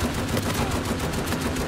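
Rapid automatic gunfire from a Naughty Dog video game, a dense sustained burst of loud shots running steadily for the whole stretch with no voices.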